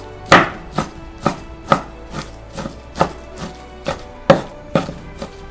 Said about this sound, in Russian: И рубим ножом, как топориком.